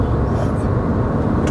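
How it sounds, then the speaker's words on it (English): A Hyundai Alcazar SUV engine pulls hard under full throttle from about 60 km/h in sixth gear, giving a steady, loud low rumble that holds for the whole stretch with no talk over it. "I am pushing the throttle, 1, 2, 3, go."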